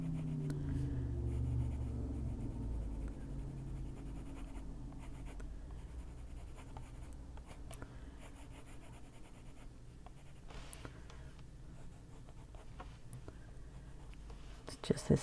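A colored pencil scratches and scribbles across paper while coloring a picture in an adult coloring book, a continuous close dry scratching in quick strokes, with soft low murmuring early on.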